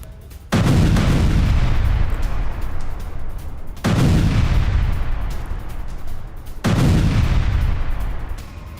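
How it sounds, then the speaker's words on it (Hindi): Russian airstrike bombardment on Ukrainian military positions near Kharkiv, three heavy booming blasts a few seconds apart, each followed by a long rumbling decay, loud and distant-sounding, with no talk. "वहां पर कैसे जोरदार बमबारी की आप देखिए।"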